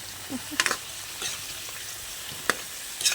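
Sweet potato frying in a small amount of oil with sugar, a steady close sizzle broken by a few sharp stirring scrapes and clacks.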